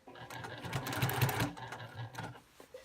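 A sewing machine quilts stitches in a burst of rapid whirring and clatter that builds and then tapers off, with a few faint clicks as it stops.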